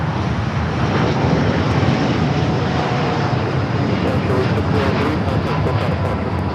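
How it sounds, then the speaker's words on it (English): A Latam Airlines Boeing 787-8 Dreamliner takes off at Los Angeles airport with a loud, continuous jet engine roar that holds strong and steady throughout, with brief clicking noises near the end. "603 taking off to Santiago, Chile on the 787-8 Dreamliner."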